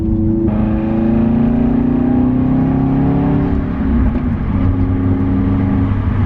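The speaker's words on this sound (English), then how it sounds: "I will open her up and let you guys listen to it because this car is so stinking loud." A loud big-turbo Subaru Legacy GT engine accelerates hard, pitch climbing steadily through the gear, then settling into a rougher drone as speed builds.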